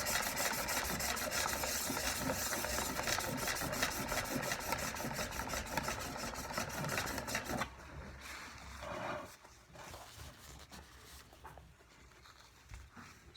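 The back of a chisel blade rubbed flat on a diamond sharpening stone, giving a continuous close gritty rasping in quick repeated strokes that grows quieter and sparser toward the end.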